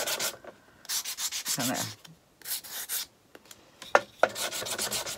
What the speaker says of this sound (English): And now I'm just going to sand it down on the edges.